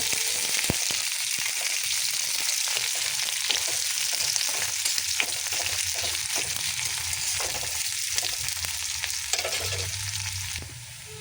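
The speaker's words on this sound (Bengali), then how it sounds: "পেঁয়াজ লাল লাল করে ভাজা হয়ে গেছে" Onion fries in hot oil until reddish for a Bombay duck fish recipe, producing a loud, steady, crackling sizzle that runs unbroken for several seconds with occasional stirring scrapes, easing slightly at the end.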